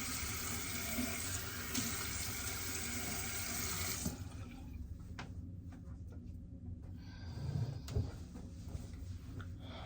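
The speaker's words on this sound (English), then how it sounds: "So we're gonna splash our face with some cold water" A bathroom tap runs steadily into a sink for about four seconds, then cuts off, leaving soft splashes and drips as cold water is splashed onto a face.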